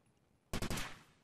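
A short burst of three or four rapid gunshots in the PC shooter Takedown: Red Sabre, loud and close after near silence, then a brief decaying echo.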